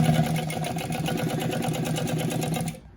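Consew P1206RB-1 walking foot industrial sewing machine stitching vinyl, a steady rapid mechanical chatter for nearly three seconds that stops abruptly near the end, close up.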